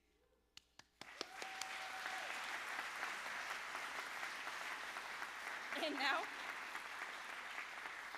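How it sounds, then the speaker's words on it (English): A brief voice and a few claps, then an audience at a Middlebury School of Hebrew honoring ceremony breaks into sustained applause that stays steady, with a short cheer partway through. "But a round of applause"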